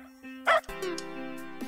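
Cartoonish dog bark effects from the Dogs of Wallstreet multiplayer video game, a short pair of yips and a whimpering bark in quick succession, loud and close with no talk.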